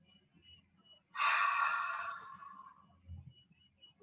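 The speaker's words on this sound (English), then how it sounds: "Exhale through the mouth like you're making a fogging sound against the mirror." One long, slow breath is exhaled through an open mouth with a breathy fogging hiss, close and soft in a quiet yoga room, fading out over about a second.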